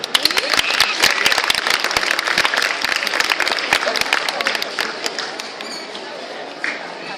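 An audience applauds at a talk by author Cheeming Boey, a steady, full wash of clapping that fills the room and then thins and fades toward the end, with a few voices mixed in.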